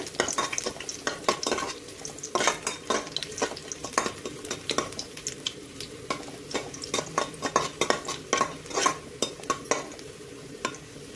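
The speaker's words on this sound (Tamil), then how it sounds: "பூண்டு போட்டு நல்லா 1 நிமிஷத்துக்கு நல்லா வதக்கிக்கோங்க." Garlic sizzles in hot oil in a pan as it is sautéed for a Tamil-style cauliflower manchurian, with a steady frying hiss and frequent close scrapes and clinks of a spoon stirring against the pan.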